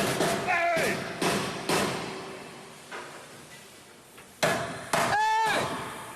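A hammer strikes metal several times at irregular intervals, sharp ringing clangs with short decays, while voices speak in between.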